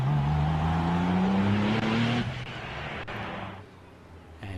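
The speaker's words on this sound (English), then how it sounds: "line up on the grid in his 993 twin turbocharged Porsche" A Porsche 993 twin-turbo race car pulls away from the start line of a gravel rally stage, its engine rising in pitch for about two seconds before a gear change, then fading into the distance.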